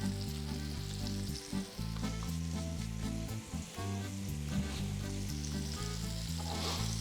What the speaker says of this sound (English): as soon as they hit the pan and start frying, you can actually smell the fresh herbs cooking